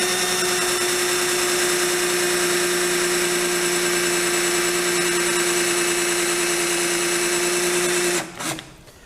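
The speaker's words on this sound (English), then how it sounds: "go back with a little bit larger drill so that we're right on center and just knock the head of the rivet off" A drill whines at a steady high pitch as it bores out a rivet, loud and close for several seconds before spinning down abruptly with a short clatter.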